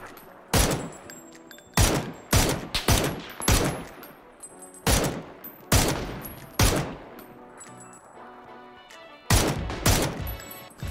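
Gunfire in PUBG during a fight involving an air boat: sharp, loud shots in irregular bursts of single and rapid doubled cracks, each ringing out with a decaying tail, repeated across the whole stretch with no talk.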